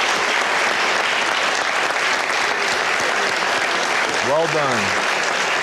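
Audience applause for the Florida Memorial football team, a dense, continuous roar of clapping filling the room, while a nearby voice speaks briefly and a short rising whistle-like tone cuts through near the end.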